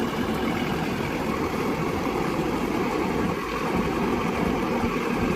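Sonalika Worldtrac 90 4WD tractor with a 90 HP turbo engine running steadily, a dense, even low rumble with broadband noise and no break across the whole stretch.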